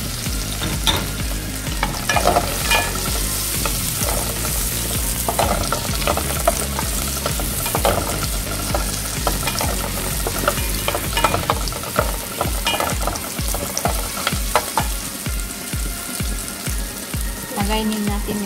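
Garlic and onion sizzle in a pan for a broccoli potato soup, a continuous frying hiss broken by repeated scraping and stirring strokes that grow more rhythmic near the end.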